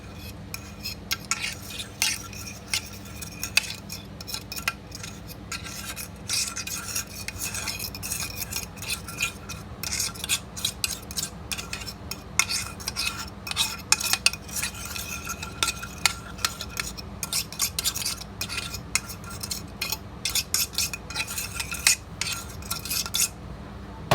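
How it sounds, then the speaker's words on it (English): Utensils scrape and clink against a pan while moving eggs onto spinach and mushrooms, a steady run of small metallic taps and stirs, close and without talk. "transfer our eggs on top of the spinach and mushrooms"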